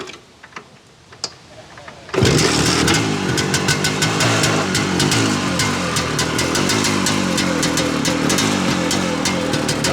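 A 1973 Ossa SDR 250 Six Day Replica motorcycle starts after a quiet moment, then runs loud and close with a buzzy two-stroke rattle and slight revving throughout.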